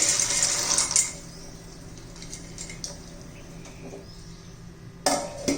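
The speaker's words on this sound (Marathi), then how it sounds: "पाण्याला आता उकळी आलेली आहे आपण पास्ता घालून घेऊ" Pasta tipped into a pot of boiling water gives a brief clatter and rush at the start, then a quiet bubbling simmer, and a second short clatter near the end, with no voices.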